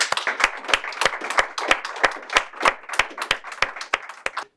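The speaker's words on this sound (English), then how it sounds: "let's give one final huge round of applause to Jared." An audience gives a speaker a round of applause at the close of a community co-op learning session: dense, steady hand clapping with sharp individual claps throughout, fairly close and sustained, with no talking.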